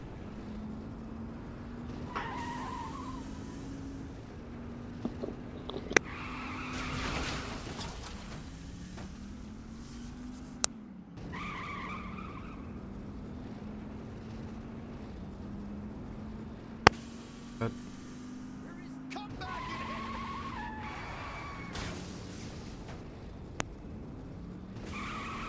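Vehicle engine drones steadily under nitrous in the Saints Row: The Third video game, with tire skids and brief sharp clicks and bumps over a continuous hum.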